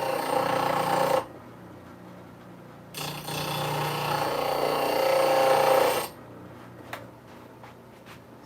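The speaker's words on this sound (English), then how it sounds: "That thing is dull. We need to sharpen it real quick." A dull tool is sharpened in two bursts of close, loud grinding and rasping, each lasting a few seconds, with quieter handling noise and a couple of clicks in between.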